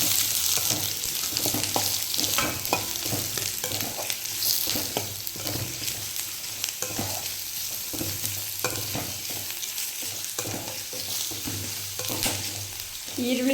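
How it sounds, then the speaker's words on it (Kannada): Green chillies and chopped medium onions fry in a pan for a Kannada dosa potato palya, giving a steady close sizzle with repeated stirring scrapes and clinks throughout. "ಹಸಿಮೆಣ್ಸಿಕಾಯಿ ಫ್ರೈ ಆಗಿದೆ. 2 ಮೀಡಿಯಮ್ ಸೈಜು ಈರುಳ್ಳಿ ಹಾಕ್ತಾಯಿದ್ದೀನಿ."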